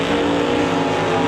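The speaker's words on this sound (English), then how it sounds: "Tire spin on the part of the Camaro" Chevrolet Camaro launching at a drag strip with its tires spinning, a loud, steady, close-up engine roar with no gaps.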